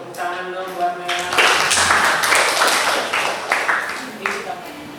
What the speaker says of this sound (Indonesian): Tepuk tangan dong buat Mela.